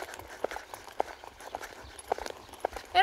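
A young horse ridden in a circle, its hooves landing in a steady, even rhythm of soft thuds, close and moderately loud, with no talking.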